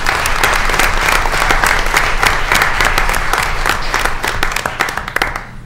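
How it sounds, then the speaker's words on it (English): Loud, dense applause from the audience at a board of education meeting, a steady roar of many hands clapping that thins and fades over the final second. "give them a round of applause"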